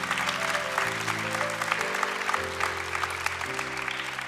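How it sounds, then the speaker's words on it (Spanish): A church congregation applauds steadily in a large hall, the clapping layered over sustained organ or keyboard chords throughout. "Give God an applause."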